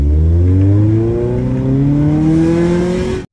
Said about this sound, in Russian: получить эмоции и адреналин от звука выхлопа, от хондовского старого мотора